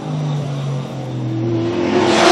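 A drift car at a drift competition, Drift Colorado Round 4 at IMI in 2017, is heard accelerating hard. Its engine note holds loud and close, then climbs steadily in pitch as the revs build.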